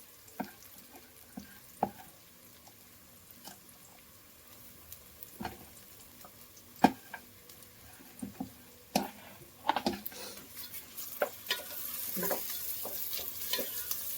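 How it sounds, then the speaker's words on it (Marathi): Four large thinly sliced onions fry in a pan for chicken biryani, a soft sizzle broken by scattered sharp clinks and scrapes of stirring, fairly quiet and without talk. "चांगलं गोल्डन होईपर्यंत चांगलं परतवून घ्या व्यवस्थित"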